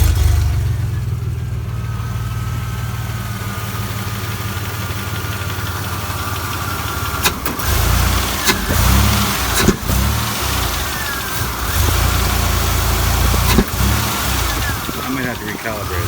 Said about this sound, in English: let's fire it up and see if it's gonna fire up an idle rate